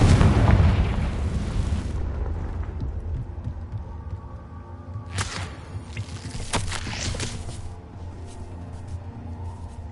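Confringo blasting spell explosions in the game Hogwarts Legacy: a heavy opening boom that fades into a low rumble, then two more sharp bursts near the middle, loud and close with no talk.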